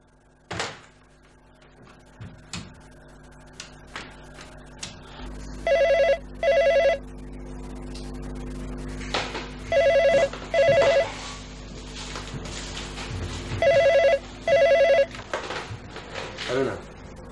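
An old landline telephone bell rings in three double bursts, each bell loud and close, spaced a few seconds apart. A door or cupboard clatters and indistinct voices come and go between the rings.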